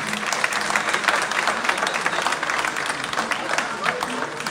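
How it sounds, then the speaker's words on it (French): Dense audience applause fills a trophy presentation at the Lumumba Awards 2025 ceremony, a steady wash of many hands clapping throughout with faint voices mixed in. "Est-ce qu'on peut applaudir comme il se doit"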